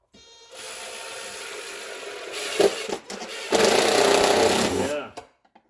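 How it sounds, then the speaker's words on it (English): An impact drill drives longer screws through an electrical box into a 2x6 stud during an EV charger installation, giving a loud close whine in several bursts that ends in a longer hammering run. "the impact drill and secure this box"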